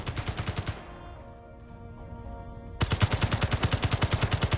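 Rapid automatic turret fire in the game Space Engineers, loud and near, comes in two bursts of evenly spaced shots with a short ringing pause between them and no speech.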